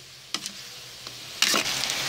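Pansit bihon being stirred with soy sauce in a frying pan, a steady close sizzle punctuated by a few scraping strokes of the utensil.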